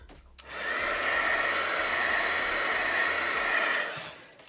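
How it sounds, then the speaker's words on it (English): A heat gun blows steadily for about three seconds to dry ink on a stamping block, a loud continuous hot-air whoosh with a faint whine, starting and stopping abruptly and heard alone. "I'm going to use my heat gun to dry it."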